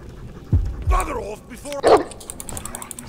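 A dog in the Game of Thrones RPG video game gives a few short barks and yips with panting, heard at close range in a game scene.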